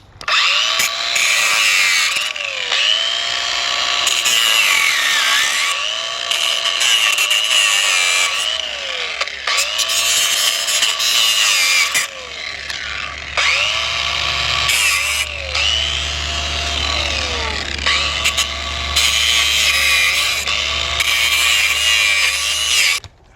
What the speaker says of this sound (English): Got my Porter cable cutter here.